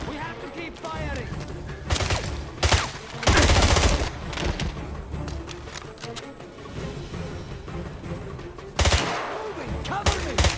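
Gunfire in the video game James Bond 007 Blood Stone, with loud bursts of automatic shots and heavy impacts in a firefight, under shouted voices.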